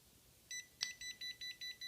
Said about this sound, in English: you'll notice it's beeping because it's within that radius